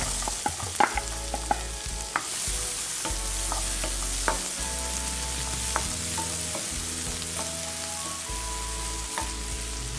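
Chopped onion sautés in melted butter in a pan, giving a loud, continuous sizzle broken by repeated spoon scrapes and knocks, with a faint steady tonal background.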